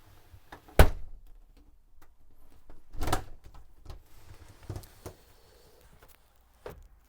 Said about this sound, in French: grâce à cette porte coulissante, de vous isoler dans la salle de bain.